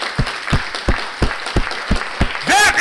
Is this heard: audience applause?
yes